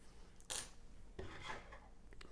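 Scissors snip off a crochet yarn end on an amigurumi piece, a short close rasping cut followed by softer rubbing and handling noises.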